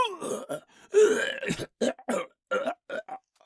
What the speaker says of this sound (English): it makes coughing sounds